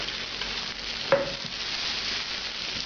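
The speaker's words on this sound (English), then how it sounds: "Now we're going to brush it with that garlic oil we made earlier" Garlic oil sizzles faintly and steadily on a cast iron pan heated to about 500 degrees Fahrenheit, a soft continuous hiss with one brief clink partway through.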